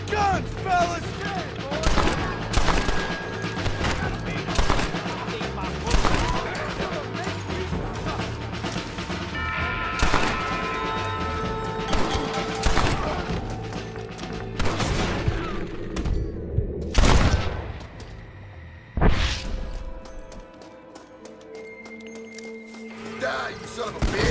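A gunfight in the Western video game Red Dead Redemption, with a dense run of shots, crashes and booms one after another, and game voices talking over the gunfire throughout.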